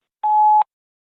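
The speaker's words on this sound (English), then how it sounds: "At the tone, please record your message." A voicemail system's record tone: one steady electronic beep lasting about 0.4 seconds, clean and alone with silence after it.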